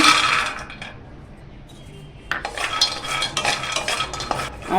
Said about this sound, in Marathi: आता काजू आपण ना थोडे भाजून घेऊया